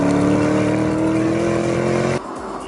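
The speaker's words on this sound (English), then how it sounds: "I'm currently driving on snow and ice in a car that has 641 horsepower rampaging around underneath its bonnet" A 641-horsepower car on snow and ice gives a loud, steady engine drone with a strong held tone that drops off abruptly near the end.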